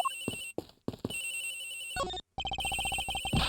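A cell phone rings inside a locker in the Ace Attorney Investigations video game, playing a synthetic ringtone of choppy tones and rapid repeated beeps with a short gap mid-way, heard clearly without any voices.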